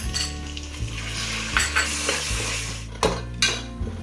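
Ginger garlic paste fries with onions in a pan for white pulav, a steady close sizzle broken by scraping spatula strokes and metallic clinks against the pan.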